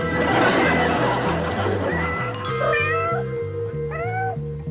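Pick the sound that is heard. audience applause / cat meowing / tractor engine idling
cat meowing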